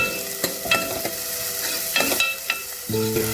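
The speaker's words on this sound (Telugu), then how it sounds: "ఇప్పుడు ఉల్లిపాయలు పచ్చిమిరపకాయలు వేసుకుందాం. లైట్గా ఫ్రై చేసుకోవాలి." Onions and green chillies fry in ghee in a kadai, giving a steady sizzle punctuated by sharp scrapes and clinks of a spoon stirring against the metal pan, close and fairly loud, with no talking.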